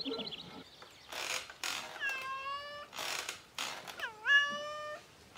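A cartoon cat stuck up a tree meows in fright, several rising and falling wails in quick succession, clear and close, separated by short quiet gaps and some faint background noise.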